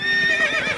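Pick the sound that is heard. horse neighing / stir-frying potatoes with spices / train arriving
horse neighing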